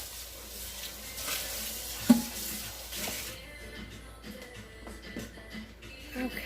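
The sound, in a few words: rinsing out a cooking pot with water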